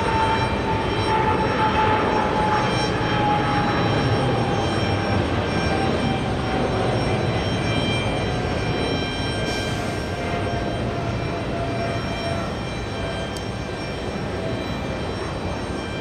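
A Gulfstream G90 business jet takes off at JFK airport, its loud continuous engine roar and high whine sustained throughout, easing off slightly near the end.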